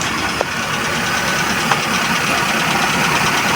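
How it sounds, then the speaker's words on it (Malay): A steady, continuous car engine hum idles close by while checking an overheating engine, with a couple of faint clicks early on and no talking. "sekarang on kunci, untuk kita hidupkan engine ataupun mesin"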